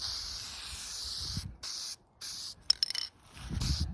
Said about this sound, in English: I'm going to give it just a light coat of copper spray gasket